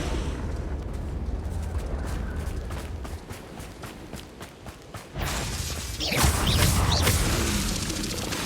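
A Confringo fire spell blasts in Hogwarts Legacy with a sudden whooshing burst of fiery noise after rhythmic magical clicks and ambience, loud and close, with no voices.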